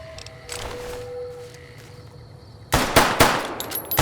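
An automatic gun in Fallout New Vegas opens up after a quiet stretch, rattling off a fast, loud string of close shots, with a few more rounds trailing at the end.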